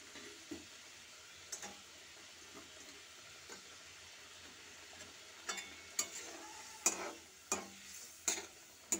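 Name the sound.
parshe fish pieces added to boiling curry gravy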